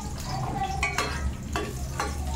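Cumin seeds crackle and pop in hot ghee during tempering for khichdi, a handful of sharp sizzling snaps over a low frying hiss.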